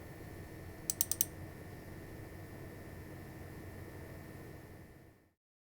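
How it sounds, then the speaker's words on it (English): The cooling fan of an LG 32GS95UE 4K OLED monitor, with the PC idle, gives a faint, steady whir broken by a brief cluster of clicks near the start, then cuts off abruptly at the end. "I can hear the damn fan."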